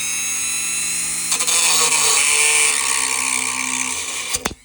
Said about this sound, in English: And I pulled out probably my least favorite tool, a Dremel.